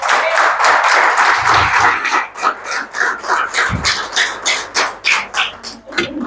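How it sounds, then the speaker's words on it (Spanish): An audience in a church claps in a burst of applause that rises to a peak, then thins into uneven waves of scattered clapping before fading. "¿Cuánto le dan un aplauso a Jesús por eso?"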